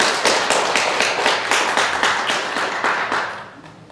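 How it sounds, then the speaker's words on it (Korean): An audience at a Won Buddhist temple celebration and lecture event claps together in brisk, fairly steady rhythm, close and moderately loud, tapering off toward the end with no talking. "정말 다시 한번 감사의 마음을 담아 박수 보내드립니다."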